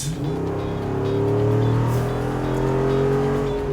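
A deep V8 engine in a Jeep Wrangler 392 revs and holds a loud, throaty drone, rising slightly in pitch, steady and close with no talking.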